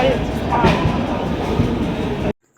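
A departing train rumbles and clatters steadily nearby with faint squeals, the noise cutting off abruptly at the end; a voice is faintly audible beneath.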